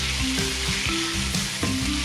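Prawns and other seafood sizzle loudly in a pan while being stirred, a steady close frying hiss broken by repeated soft scrapes and clinks of the utensil.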